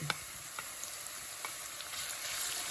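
Crushed shallots sizzle in hot oil in a pan with wilted chilies and curry leaves for chicken thoran, a steady close frying hiss with scattered sharp crackles and pops throughout.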